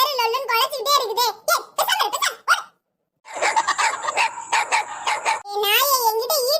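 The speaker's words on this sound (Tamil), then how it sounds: "அடுத்தது நாய் வேற லொல்லுன்னு குலைச்சிட்டே இருக்குது" A dog barks repeatedly in a village, sharp rhythmic yaps mixed in with excited talk and shouting voices, loud and close throughout.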